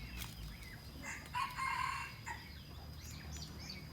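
A rooster crows amid clucking chickens in a small garden, the crow fairly faint and somewhat distant over a low outdoor background with no talking.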